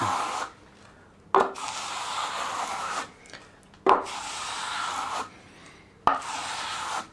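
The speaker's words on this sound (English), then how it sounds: "Get your trowel at the very edge of the wall, and trowel it out." A plastering trowel drags over wet plaster at a wall edge in three long, close scraping strokes, each opening with a sharp contact and separated by short quiet gaps.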